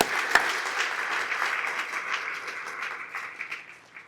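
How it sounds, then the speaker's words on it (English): Steady applause from a gala dinner audience, a dense wash of many hands clapping at moderate distance that holds for several seconds and gradually tapers off, with no talking over it. "Can I get a round of applause for Chairman?"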